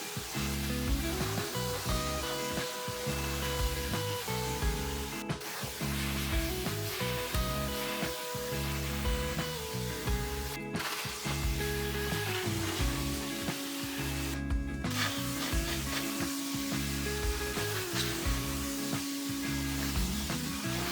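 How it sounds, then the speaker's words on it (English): A pressure washer rinses the textured bed liner of a giant truck, giving a steady, continuous hiss of spraying water that runs for the whole stretch with only a few tiny breaks. "followed by a thorough pressure wash to blast away the loosened dirt"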